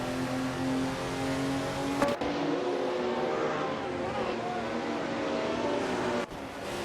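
AI-driven racing cars in a group race, their engines giving a steady, continuous roar with tonal whine throughout, a brief dip near the middle and another just before the end.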